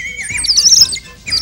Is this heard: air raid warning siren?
no